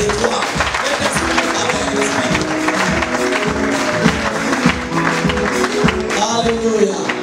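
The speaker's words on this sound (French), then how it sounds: "Applaudissons pour tous les trois." A church congregation at Living In Christ Oméga Ministries clapping steadily and loudly, with the applause blending into music and voices in the hall.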